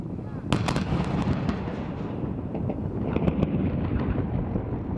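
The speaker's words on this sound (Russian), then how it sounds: "На Нарышкином бастионе находятся 2 гаубицы, из которых ровно в 12 часов дня производится полуденный холостой выстрел." A blank noon shot goes off from a howitzer on the Naryshkin Bastion, one sharp, loud boom that is followed by a rumbling echo and a few further sharp cracks over the outdoor crowd noise.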